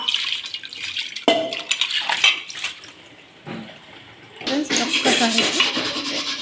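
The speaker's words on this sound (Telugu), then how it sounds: "సబ్బుతో అయితే ఇలా క్లీన్ చేసేసుకుంటే మొత్తం అయితే క్లీన్ అవుతుంది" A pan being scrubbed with soap and water, with wet rubbing and swishing strokes and brief clinks of the metal pan. Bursts of scrubbing alternate with a quieter lull, then steady washing resumes, close and moderately loud.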